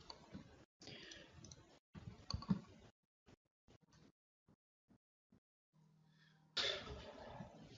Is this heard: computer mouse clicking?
yes